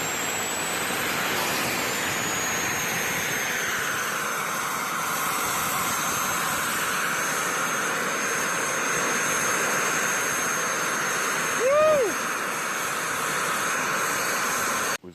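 A compound turbo setup feeding a liquid-fuel burn barrel runs with a steady, loud jet-like roar and high whine, briefly swooping in pitch near the end before cutting off.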